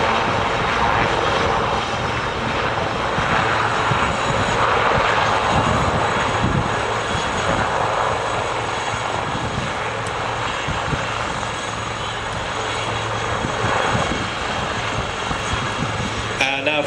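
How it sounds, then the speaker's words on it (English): A helicopter holds a hover and turns on the spot at an airshow, with a steady, loud rotor and engine drone that stays at an even level throughout, plus a faint hum and rushing air. "Chris, who's remained in the hover, is demonstrating a manoeuvre familiar to any self-respecting helicopter pilot"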